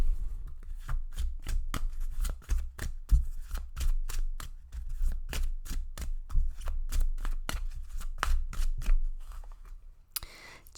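Oracle cards being shuffled by hand for a pick-a-card reading, a fast steady run of crisp riffling snaps lasting about ten seconds, close and alone, ending with a sharp tap.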